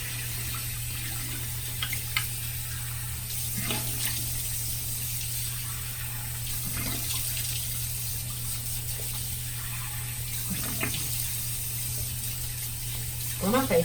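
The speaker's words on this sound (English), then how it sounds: "Let me rinse this off." Tap water runs steadily while a Duvolle Spin Care Radiance face brush is rinsed under it, a constant wash with a low hum beneath and a few faint splashes and clicks.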